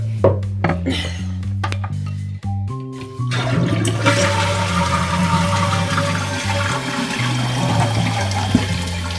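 A toilet tank refilling after its bowl float is clipped back in and the water turned back on: a loud rushing, hissing flow that settles into a steady churning stream, preceded by a few short clunks and taps.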